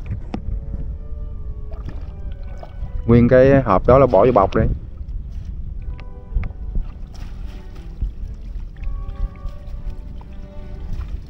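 A small fishing boat, out for trap fishing, moves along a river with a steady low rumble and water wash throughout, while a person speaks briefly midway.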